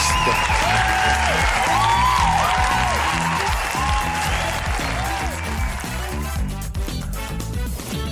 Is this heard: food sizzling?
no